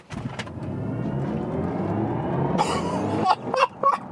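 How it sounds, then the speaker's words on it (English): A BMW i4 M50 electric car accelerates hard in Sport Boost mode, giving a steady, moderately loud rushing road and motor drone that builds over a few seconds, with a few short bursts near the end. "Sport Boost mode, maximum acceleration, let's go."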